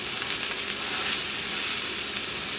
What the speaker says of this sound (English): Alright, so it's been sizzling for a while now. It's a big ass burger, so it'll take a while to cook